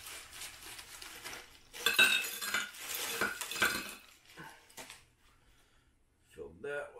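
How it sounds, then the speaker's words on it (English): Crushed ice poured from a bag into a Welly Bottle Traveler coffee cup, with loud rattling, clinking bursts for about two seconds before fading to near quiet, then a brief late rustle. "I got a bag of some crushed ice here."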